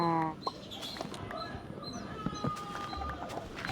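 A chicken in the Minecraft video game gives a few short, scattered clucks amid assorted game sounds, moderately loud and close.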